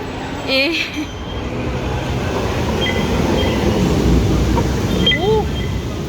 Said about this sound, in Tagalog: nandiyan na yung tren.